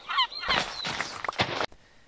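Seagulls squawk in short, bright calls on a beach in a modded Minecraft survival world, the cries repeating over a steady ambient bed before cutting off abruptly.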